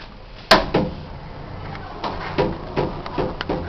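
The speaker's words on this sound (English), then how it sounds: "The door's closing really slowly." A Montgomery hydraulic elevator door in a school building closes slowly, opening with a sharp clunk and followed by a string of softer knocks and rattles nearby.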